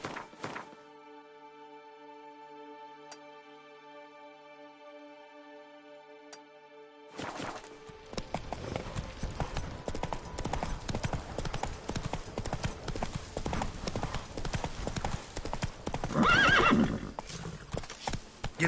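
Roach the horse gallops in The Witcher 3 after a quiet tonal stretch, with rapid, loud hoofbeats for the last eleven seconds and a brief neigh near the end.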